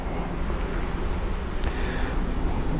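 Honeybees humming during a beehive inspection in September, a steady close buzzing drone with faint wind-like background, no talk.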